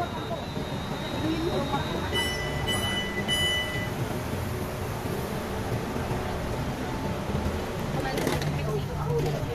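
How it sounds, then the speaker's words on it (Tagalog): Riding inside a Bangkok LRT/BTS train brings a steady rumbling hiss of the moving carriage with faint high tones, while people talk nearby. "So, ganito ang train nila."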